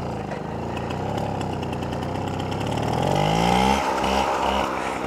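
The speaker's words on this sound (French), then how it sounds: "celle-ci est assez simple à démarrer parce que le décompresseur, même sans décompresseur elle démarre" A Motoconfort AV89 moped's small two-stroke engine sputters to life and settles into a buzzing idle, then revs higher with a rising whine before dropping back, close and fairly loud.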